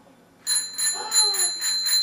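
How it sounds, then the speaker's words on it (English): A child's bicycle bell rings repeatedly indoors, bright metallic dings in quick succession, close and fairly loud, with faint voices underneath. "Is that Bell for your bicycle?"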